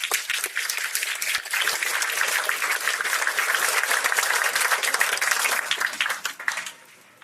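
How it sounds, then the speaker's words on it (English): Audience applause at a King's Award for Voluntary Service ceremony in Essex, a dense burst of many hands clapping at once, steady and fairly loud, then fading out quickly at the end. "Please join me in a round of applause."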